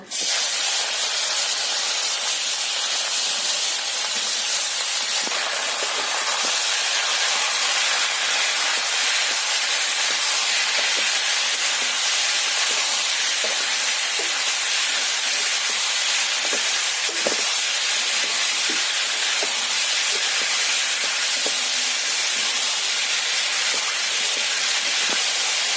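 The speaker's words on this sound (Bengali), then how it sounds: "এখন আমি চিংড়িগুলো দিয়ে হালকা ভেজে নেব।" Prawns fry in hot oil and ghee for a coconut malai prawn curry, a loud, dense, continuous hiss and spatter that holds steady throughout with faint scattered crackles and no voices.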